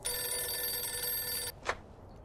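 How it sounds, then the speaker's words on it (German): A telephone rings in a 1940s-styled scene from the PC video game Mafia 2, a loud steady electric bell ring lasting about a second and a half, then stopping, followed by a brief faint click. "da klingelt das Telefon."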